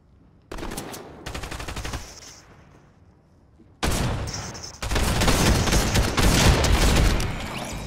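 Sustained automatic gunfire in a Fortnite No Build match: a burst, a short pause, then long heavy volleys that grow louder and denser toward the end, close by and with almost no talk.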